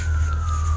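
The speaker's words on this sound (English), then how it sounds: "there's an ambulance" An ambulance siren passing on a street, a steady, sustained high wail heard at moderate distance over a heavy low engine or traffic hum, with no talk.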